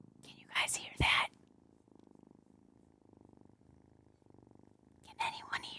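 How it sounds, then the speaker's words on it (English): A soft, steady cat purr rumbles close by in a rhythmic pulse, with brief whispered voices before and after. "Can anyone hear the purring?"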